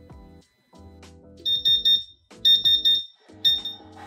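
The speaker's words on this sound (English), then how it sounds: "If the alarm lamp is illuminated, it suggests there is an issue that needs to be resolved. This could simply be low water in the reservoir or a blockage in the cooling loop" Alarm buzzer of a CW-5200 water chiller for a CO2 laser machine, sounding a fault such as low reservoir water or a cooling-loop blockage: three clear, loud bursts of rapid electronic beeping about a second apart over a low machine hum.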